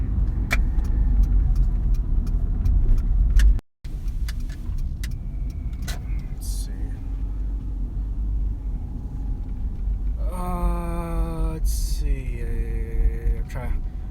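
A car driving on a road, steady engine and road rumble from inside the cabin that briefly cuts out, then continues with a person talking over it.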